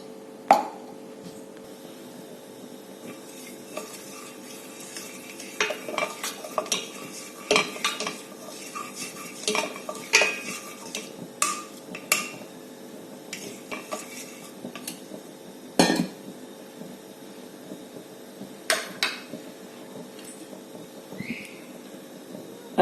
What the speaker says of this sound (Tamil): அதில் கீ ஆட் பண்ணிட்டு, கீ நமக்கு எவ்வளோ தேவையோ அவ்வளோ போட்டுக்கலாம்.